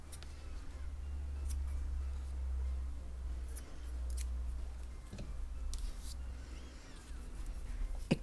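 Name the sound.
scissors cutting crochet thread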